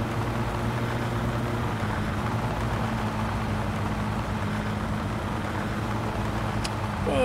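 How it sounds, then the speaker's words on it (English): Steady low road roar of tires on pavement with a constant engine hum in the video game My Summer Car, unbroken throughout at moderate volume. "I can hear tire noise a lot more now"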